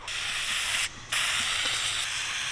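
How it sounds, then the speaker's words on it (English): An aerosol can of wrinkle black spray paint hisses in a steady burst, pauses briefly, then hisses again in a longer continuous spray, close by. "let's see how it works in the wrinkle black. And give it this first spray"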